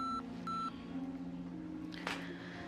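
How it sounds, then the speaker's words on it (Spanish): Voicemail beep tones on a phone line, played just before a message is recorded: a short steady tone, then a second one, with a low hum underneath and a brief rustle near the end. "La llamada contará después del tono."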